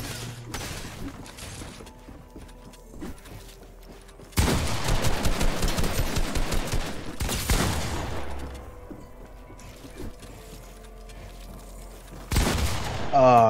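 Video game gunfire comes in several loud bursts of rapid shots between quieter stretches of game noise and occasional talk.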